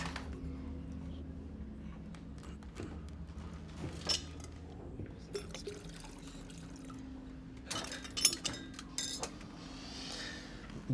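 Water is poured into a glass near the end, its gurgle rising in pitch as it fills, with quiet talking and clinks of glassware before it.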